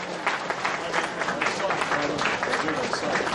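An audience applauds at a fundraising event in Vancouver for a boat people memorial, with dense, steady clapping that runs the whole time and sits close and loud.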